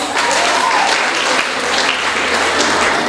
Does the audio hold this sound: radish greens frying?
no